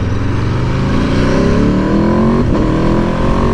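A 2021 Aprilia RSV4 1100 motorcycle engine revs loud and close, holding a dense, continuous roar with rising tones and a brief dip midway.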